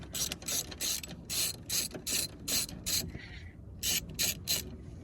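Ratchet wrench clicking in repeated bursts while undoing a seat belt bolt inside a Vauxhall Zafira B, close up with brief pauses between strokes.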